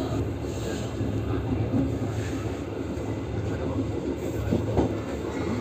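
Passenger train running on rails as it approaches Tegal station, a continuous loud rumbling roar of wheels and carriages with steady rattling throughout, heard from on board.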